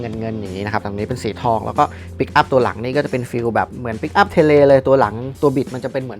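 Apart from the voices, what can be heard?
None of the usual background noises is heard.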